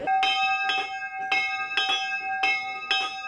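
A church bell rings out at an outdoor memorial ceremony, its clear, sustained tone struck again and again in a steady, unhurried rhythm over about three seconds with no voices.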